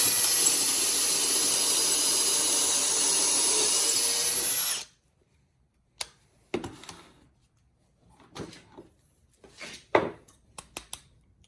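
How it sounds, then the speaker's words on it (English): A power drill whines steadily and loudly for about five seconds while pre-drilling a hole in solid oak, then cuts out, followed by scattered knocks and handling noises. "So you pre-drill the hole here."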